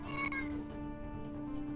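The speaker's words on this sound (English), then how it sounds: "Pet the cat." A house cat meows once or twice, fairly faint and close, against a quiet indoor background.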